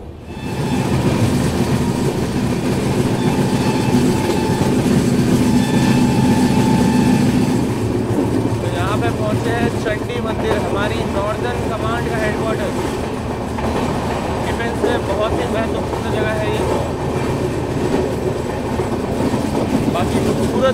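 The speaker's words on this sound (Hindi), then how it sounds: "वो देखो WAP-4 ट्रेन को धक्का देते हुए" A Kalka Shatabdi Express passenger train on the Kalka to Shimla route, pushed by a WAP-4 electric locomotive, rumbles loudly and steadily from on board, with rhythmic wheel clatter over rail joints and occasional voices.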